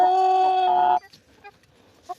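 A rooster in a rural Ukrainian village yard lets out a loud, drawn-out, tonal call lasting about a second, followed by a few faint, scattered clucks.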